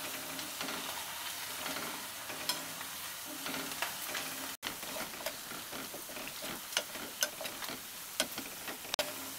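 Crispy potato peel pakoras fry in oil while a spoon stirs them, producing a steady sizzle punctuated by repeated sharp ticks and clinks of the spoon against the pan.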